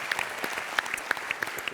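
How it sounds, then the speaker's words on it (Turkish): Studio audience on a Turkish TV talk show breaks into brisk applause, many hands clapping together in a dense, steady patter with sharper individual claps standing out near the front. "Bir büyük alkış. Kocaman bir alkış."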